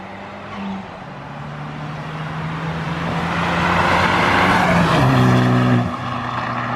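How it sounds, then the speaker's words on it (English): A turbocharged, K-swapped Honda EG hatchback revs hard, its engine note climbing loud and close and holding near the top before dropping off sharply toward the end, with no voices over it. "do you guys hear that flutter?"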